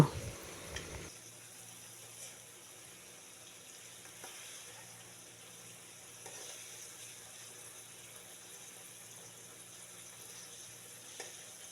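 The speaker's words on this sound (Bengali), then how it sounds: "এখন মাছ একটু উল্টিয়ে দিব।" Fish sizzles steadily in a hot pan for a Bengali fish curry with pointed gourd and jackfruit seeds, opening with a brief clatter as the pieces are flipped, then a continuous soft, even frying hiss.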